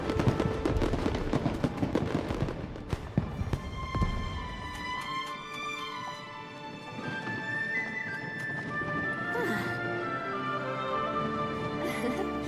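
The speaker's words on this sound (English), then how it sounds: "Fireworks show?" A fireworks show in Genshin Impact at night, with a crackling rush of bursts and pops over the first few seconds, then ringing chime-like sparkles and soft booms over a musical background.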